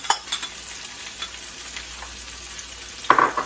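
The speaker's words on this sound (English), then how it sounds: "once those get going, I'll bring in my ham" A skillet of onions frying with ham going in: a quiet steady sizzle with a few soft stirring clicks and a brief louder burst of sizzle near the end.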